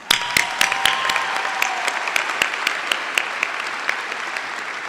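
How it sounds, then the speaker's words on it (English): Sustained applause from a high school graduation audience, a dense steady patter of many hands with a few sharper individual claps standing out, continuing evenly throughout. "Let's give them all a round of applause."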